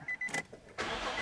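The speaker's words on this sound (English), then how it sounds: "we're going to start the engine" A Nissan/Infiniti car engine starts after a throttle relearn: a few short starter cranks, then the engine catches into a steady, close running roar.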